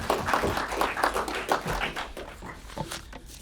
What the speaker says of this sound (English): So welcome her with applause.